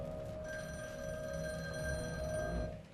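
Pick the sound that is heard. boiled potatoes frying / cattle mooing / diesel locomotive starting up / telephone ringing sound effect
telephone ringing sound effect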